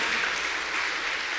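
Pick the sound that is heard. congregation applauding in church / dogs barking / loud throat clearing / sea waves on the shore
congregation applauding in church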